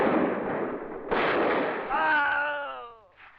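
Gunfire in a 1969 Macedonian war film: dense bursts of rifle fire, then a sharp fresh volley partway through, followed by a voice shouting loudly over the continuing shots.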